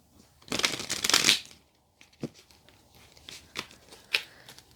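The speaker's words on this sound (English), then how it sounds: "Let's get your tarot cards out. So let's give it one more shuffle." Tarot cards are shuffled close by in a dense riffling burst lasting about a second, followed by a few lighter scattered taps and flicks of the deck.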